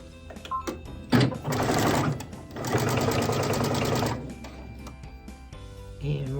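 Sewing machine stitching 1-inch rag quilt seams at a 2.5 stitch length: two steady, fast mechanical runs of whirring stitches, the second longer, with short pauses and light handling clicks between them.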